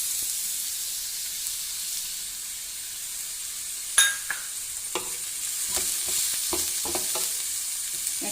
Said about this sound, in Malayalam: എണ്ണ ശരിക്കും ചൂടായിട്ടുണ്ട്. നമുക്കത് സവാള ഇട്ട് കൊടുക്കാം.